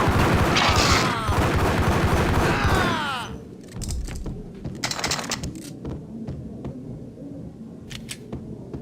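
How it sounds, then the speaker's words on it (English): Gunfire in the Max Payne video game: a loud, dense burst of shots with ringing, whistling tones for about three seconds, then scattered sharp impacts and clinks as the shooting tapers off. "Gun him down!"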